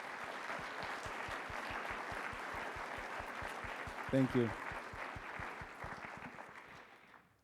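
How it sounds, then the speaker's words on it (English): Audience applause at a talk on nature and purpose, steady broadband clapping that runs for about seven seconds, with a brief spoken thanks near the middle. "Please join me in giving Luke a warm round of applause."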